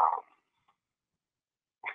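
Two short dog barks from a puppy, one at the start and another near the end, separated by silence; fairly faint and alone with no talking.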